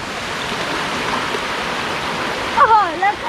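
Fast, cold stream water tumbles over a waterfall in a constant close rush, joined near the end by a few short tonal voice-like sounds.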